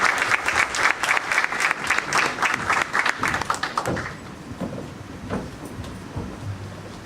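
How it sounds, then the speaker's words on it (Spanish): A seminar audience marking 100 years of the Panamanian Civil Code claps for a professor; dense applause fills the first four seconds, then thins to a few scattered claps. "Aplauso para el profesor Alexander Valencia."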